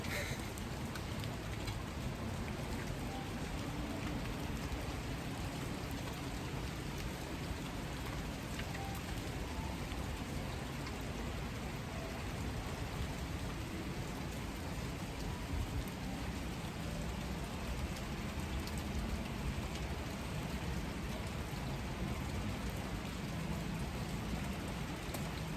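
Steady rain falls in a dense, even hiss of drops on surfaces, continuous and unbroken from start to finish.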